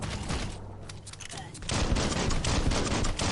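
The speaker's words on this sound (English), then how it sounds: "I'm just gonna sit here and spam him with bullets, and I have unlimited amounts of bullets." Sustained ranged gunfire in the video game Biomutant, with unlimited bullets spammed at an enemy. The dense, rapid crackle of shots builds and grows louder in the second half, and someone talks over the first part.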